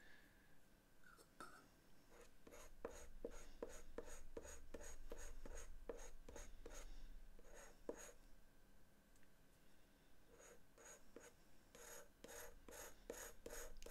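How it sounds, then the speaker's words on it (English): Piece of glass scraped across cartridge paper to spread ink, a series of close, rasping strokes in uneven rhythm, fairly quiet, with no talk. "So I'm just going to scrape the ink across."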